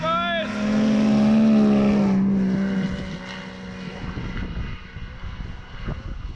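A Yamaha Sidewinder snowmobile racing an Arctic Cat snowmobile roars loudly with a high, climbing engine whine that sweeps up in pitch, then settles into a rougher, fainter drone as the sleds pull away.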